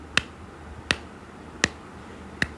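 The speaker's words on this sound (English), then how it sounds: "when you are clapping like this" Four evenly spaced sharp hand claps, sounded one by one in a quiet room as a demonstration for an echo experiment, each crisp and close with short gaps between.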